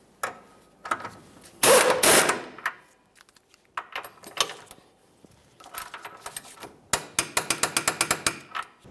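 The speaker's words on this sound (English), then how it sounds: "Snug it up, torque that to 84 foot-pounds as well." A ratchet snugs up the outer 21mm mounting nut of a rear control arm on a 2007-2013 Acura MDX. Scattered close metallic clinks and rattles lead into a quick, even run of sharp ratcheting clicks, with no voices.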